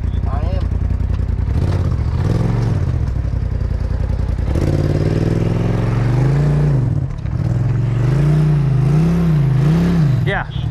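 A four-wheel-drive vehicle in a ditch on a mountain trail climbs out, its engine revving and labouring in rising and falling surges with clattering underneath, close and loud, while people talk over it.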